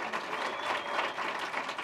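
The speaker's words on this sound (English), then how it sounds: "can we give Danny a bigger round of applause than that?" Audience applause for Danny Sullivan at a startup fireside chat event, a steady patter of many hands clapping, moderately distant and fairly quiet, lasting under two seconds.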